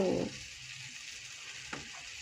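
Chopped onion frying in a pan, a continuous close sizzle with a brief stirring scrape at the start and a small clink near the end.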